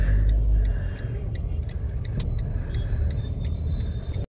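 Car driving over a road near Karikode Bridge, with steady low engine and tyre rumble filling the whole stretch, a few faint clicks and light rattles inside the cabin, and no one talking.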